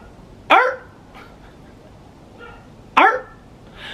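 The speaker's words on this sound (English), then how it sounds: "Maybe it is our neighbor dog, because now Boo Radley's barking." A neighbor's dog barking indoors, two sharp separate barks a few seconds apart, close and loud, with faint softer sounds between them.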